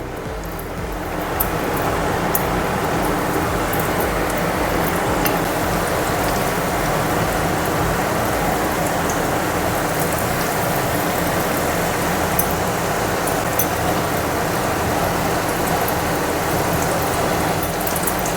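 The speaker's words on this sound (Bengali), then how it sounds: "এখন আমি তেলে ভেজে নিচ্ছি" Mushroom lollipops frying in a wok of oil over a medium flame, a loud, steady, dense sizzle that holds evenly throughout with no voices.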